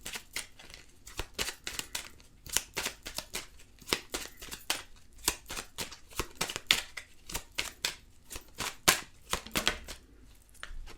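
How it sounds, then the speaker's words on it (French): Tarot cards are shuffled in quick, soft riffles and flicks, a steady patter of light snaps close by and fairly quiet. "Alors, on mélange."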